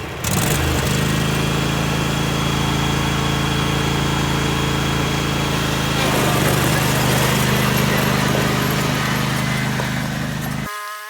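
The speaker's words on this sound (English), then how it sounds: "Got my tractor. Gonna go for a ride in my tractor." A tractor engine runs steadily during a farm ride, a loud, continuous droning hum that holds an even pitch for about ten seconds before cutting off abruptly, with no talking.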